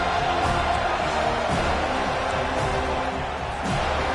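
A home crowd at a college football playoff game creates a constant loud roar of massed cheering and noise in a big stadium, with no breaks throughout.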